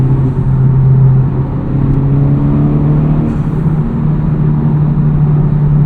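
A 2023 FL5 Honda Civic Type R's turbocharged engine fitted with a Cobb Redline carbon fiber intake, heard from inside while driving as a loud, steady engine drone that holds and slightly rises in pitch without breaks.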